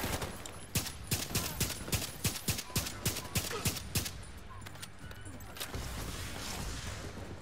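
Rapid gunfire in a video game raid, a fast run of sharp loud shots in bursts that thin out and stop partway through, with players talking over the shooting.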